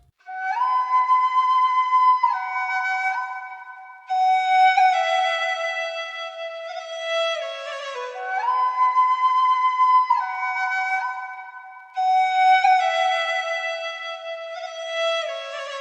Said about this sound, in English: Those are the 3 sounds in it: the flute, the violin, and the omnisphere